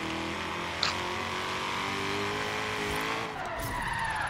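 Video game car drifting sideways: a steady loud engine drone with a sustained tyre squeal that bends in pitch as the car slides, a brief knock near the start.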